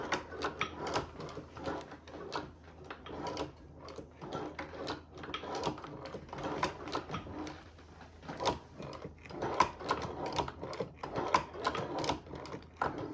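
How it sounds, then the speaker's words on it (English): Home sewing machine stitching through a sneaker upper, its presser foot walking along a seam, gives a steady run of quick mechanical pulses with brief pauses, moderately close and with no talking. "One stitch at a time. I use the presser foot along there as my guide marker."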